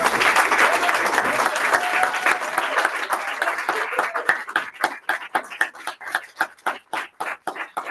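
Audience applause at a Toastmasters club meeting: a dense, steady round of clapping from a room of people that thins out into fewer, separate claps toward the end, heard alone without talk.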